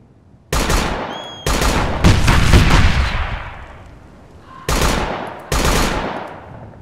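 Loud gunfire in the military shooter Operation Flashpoint: Dragon Rising, with several sharp, close bursts that each trail off into long rumbling echoes, spaced irregularly and with no talking.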